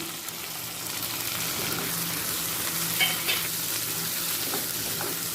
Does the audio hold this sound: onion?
yes